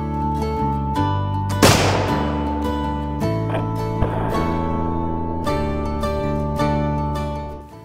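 A single sharp report from a .45 caliber primitive muzzleloader rifle during a Kentucky hunt rings out early and decays quickly, partly masked by continuous background music.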